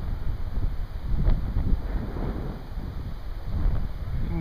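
Gusty wind buffets the microphone outdoors at a waterfall in Blackwater Falls State Park in autumn, a steady low roar with rushing water mixed in and swelling in waves throughout.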